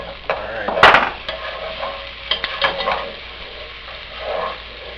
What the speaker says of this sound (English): Can you stir that up? Keep stirring it.